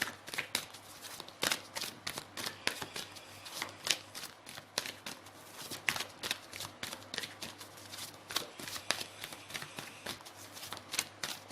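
Tarot cards being shuffled by hand, a quick, steady run of soft papery riffles and flicks, close and fairly quiet, with no talking.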